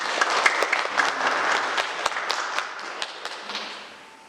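A church congregation claps to welcome a newcomer to the youth group, brisk scattered hand claps with a few sharp louder slaps, fading out toward the end.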